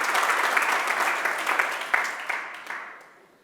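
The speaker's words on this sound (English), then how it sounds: "And applause." Applause from an audience at an Arduino Day community challenge awards announcement, steady clapping that fades out over a few seconds.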